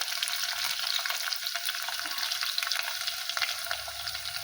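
Chopped onion fries in oil in a pan as the base of a fish curry, a steady close sizzle with soft crackling and occasional stirring, continuous and even in loudness.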